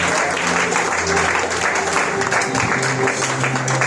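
Church congregation clapping steadily and acclaiming the Lord during a Sunday worship service of praise and adoration, a dense continuous wash of applause with voices mixed in.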